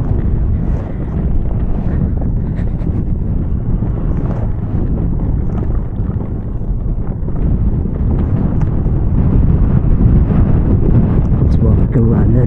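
Strong wind roars across a mountain road between Jebel Musa and Ksar Sghir in Morocco, a loud, continuous low buffeting that swells and dips without a break.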